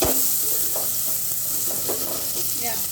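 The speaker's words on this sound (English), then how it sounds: "I'll let my onion and my ginger and garlic to cook for some time" Onion, ginger and garlic sizzle steadily in a pan while being cooked, with a continuous frying hiss and soft stirring scrapes in between, close and fairly loud, with no talk.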